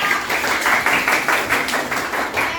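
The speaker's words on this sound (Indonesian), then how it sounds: "Oke, tepuk tangan dong" A classroom group claps hands together in a steady burst of close, overlapping claps with a few rhythmic accents, sustained for the whole stretch without voices.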